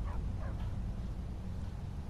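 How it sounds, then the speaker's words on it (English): Dog in the video game Skyrim, giving a few short yips and whimpers over a steady low background rumble, fairly close and moderately loud, with no talk. "Don't mind the dog."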